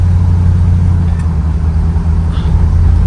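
A 1964 Ford Galaxie under way in second gear after freshly finished mechanical and brake work, its engine a loud, steady low drone heard up close inside the car without talking.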